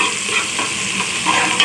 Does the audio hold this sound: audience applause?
no